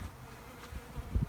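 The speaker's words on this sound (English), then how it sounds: "it does not take long for the bees to get to work" Honeybees swarming around a honey extractor set outdoors during a spring honey harvest, a continuous close buzzing drone with a louder pass near the end.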